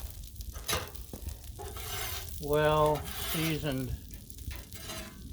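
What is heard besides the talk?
gnocchi sizzling in butter on Blackstone griddle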